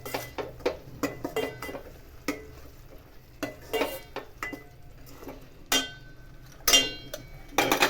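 Pigeon peas are stirred in a pot with red chilli powder, turmeric and salt, giving a run of scraping, clinking spoon strokes against the metal in an uneven rhythm, close and fairly loud, with a faint sizzle underneath.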